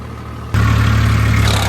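A Massey tractor engine in a field with sugarcane beds starts up or throttles in abruptly after a quiet moment, then holds a loud, steady low-pitched running drone nearby.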